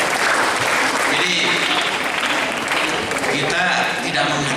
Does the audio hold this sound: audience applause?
yes